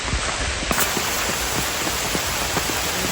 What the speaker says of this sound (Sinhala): හැබැයි දැන් වහිනවා හොඳටම